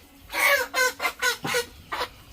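Chickens on an organic chicken farm cluck loudly and close, a run of five or six sharp squawking calls in quick succession with no talk over them.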